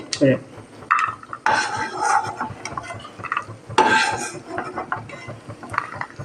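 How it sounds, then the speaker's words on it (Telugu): Cashews, raisins and other dry fruits frying in a pan, marked mostly by clinking and scraping of a metal spoon against the pan in irregular bursts, with a faint sizzle underneath. "అలాగే డ్రై ఫ్రూట్స్ నీట్గా వేయించుకోవాలి."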